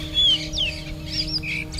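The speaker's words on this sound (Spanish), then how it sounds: "El sonido de las aves para mí es la forma con" Birds chirp and call in short, thin, sliding notes, several in quick succession, over a steady low hum.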